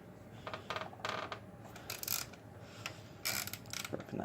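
An 8mm tool loosening top screws on a motorcycle during a kickstarter change, giving quiet bursts of metallic clicking and ratcheting with short pauses between turns.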